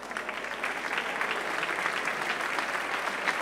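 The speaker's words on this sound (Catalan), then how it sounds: "aplaudiment per ells" A crowd at a town festival afternoon of Catalan stick dancers applauds the dancers, families and friends, with dense, steady clapping from many hands holding at a lively level throughout.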